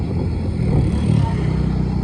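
A motorcycle engine rumbles close by, a low steady drone swelling slightly as the bike passes, with no one talking over it.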